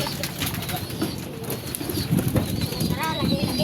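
Domestic pigeons flutter and flap their wings nearby in a lively, continuous burst of feathery beats, with soft coos and people moving about in the background.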